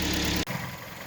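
A Kia Sportage 3 engine idles after repair, warmed up, with the car raised in a workshop: a brief, steady low hum that changes abruptly partway through, then carries on more quietly.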